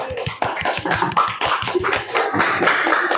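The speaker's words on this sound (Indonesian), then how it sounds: "Yuk, tepuk semangat dulu sebelum salam nanti." A classroom of students claps a rhythmic encouragement cheer in an Indonesian school lesson, producing a fast run of sharp, loud hand claps with short pauses and no talking over it.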